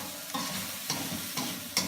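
Instant noodles are stirred in a sizzling pan, with a few scraping strokes at a steady rhythm over constant frying hiss, close up.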